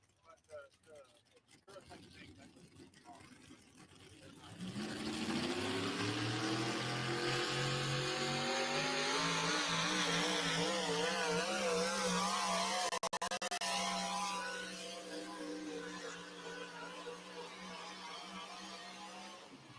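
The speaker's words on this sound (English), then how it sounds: "Here we go, Dodge Dakota with a big Sonny Leonard Hemi." Dodge Dakota drag truck with a big Sonny Leonard Hemi engine racing at a drag strip, a loud roaring engine note rising sharply in pitch and sustained, then fading slightly, with an announcer talking over it.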